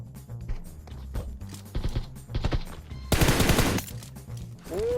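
In the mobile game PUBG Mobile, scattered single gunshots crack over several seconds, then a dense automatic-fire burst erupts, all fairly close and punchy with no talking.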